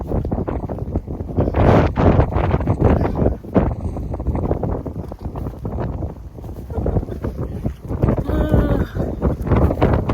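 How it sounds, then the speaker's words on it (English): Strong wind gusts buffet the microphone on the Appalachian Trail, a loud, continuous rumbling roar that surges and eases in waves, with a few faint sounds of movement near the end. "The gusts are so strong."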